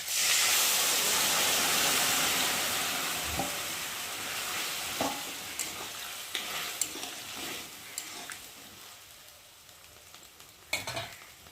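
Boiled vegetables simmer in a pan with fried ginger and cumin paste for Bengali shukto, a loud steady sizzle and hiss at first that eases off, broken by a few clinks and scrapes of a spoon.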